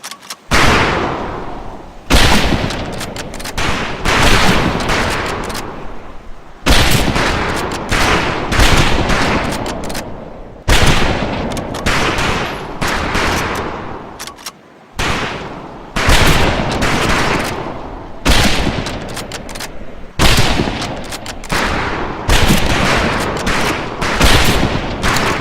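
Rifle gunfire at a firing range in Medal of Honor: Pacific Assault: loud, close volleys of overlapping shots burst out again and again, roughly every couple of seconds, with brief gaps between them.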